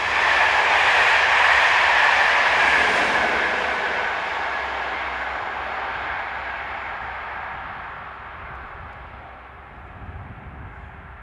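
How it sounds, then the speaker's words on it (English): Locomotive BB 22266 hauls a TER regional train toward Marseille near Livron, powering away in a loud broad roar that slowly fades into the distance, with no voices. "Powering away from the camera is BB 22266, with a TER regional service bound for Marseille"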